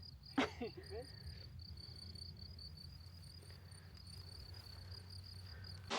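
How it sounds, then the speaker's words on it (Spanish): Steady high crickets chirp continuously across an open meadow in Germany, with a couple of brief rustles or bird notes at the start and end. "¿Qué se escucha? Los grillos."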